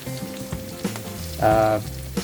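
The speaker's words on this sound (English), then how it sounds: "there's actually an advantage to frying the garlic with the skin" A sudden burst of sizzling as unpeeled garlic hits hot oil, crackling loudly for about half a second before fading, amid kitchen clatter.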